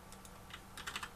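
Quick, quiet clatter of keys on a computer keyboard, a short burst of irregular taps that grows a little denser toward the end, with no voices.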